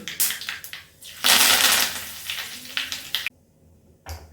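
Curry leaves hit hot oil in a tempering for peanut chutney served with punugulu, crackling and sizzling loudly in close bursts, then cutting off abruptly before one brief final sputter.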